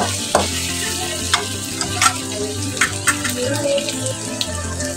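Tomatoes sizzle and sauté in a hot pan for a chicken dish, a steady frying hiss broken by several sharp stirring clatters from a utensil, close and fairly loud with no talking.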